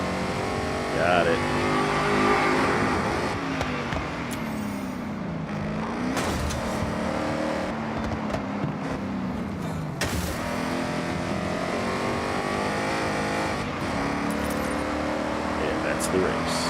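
Race car engines in Forza Horizon 6 roar and shift through gears over a long stretch, with rising and falling revs, while a person talks over the game sound.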